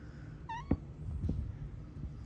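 A cat meows once, short and faint, over a low indoor hum during a crochet session, with a couple of soft thumps and no talking.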